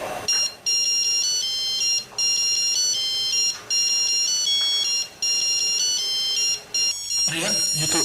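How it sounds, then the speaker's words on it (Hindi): A mobile phone rings with a repeating electronic melody in a 2003 Pakistani TV drama, loud and close, cycling in regular bursts with short pauses, then a rustle at the end. "रिया, ये तो सजल का फोन है।"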